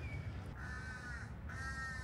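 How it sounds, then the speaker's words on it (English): Crows caw repeatedly in Chatuchak Park, two or three drawn-out calls ringing over a steady outdoor rumble, moderately distant. "I hope that you guys can hear the birds"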